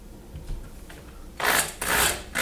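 A dull Forstner bit grinds into PVC in two short, harsh rasping bursts near the microphone, following a quieter scraping lead-in.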